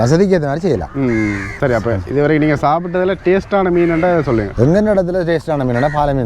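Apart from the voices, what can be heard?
No everyday noise stands out behind the speech.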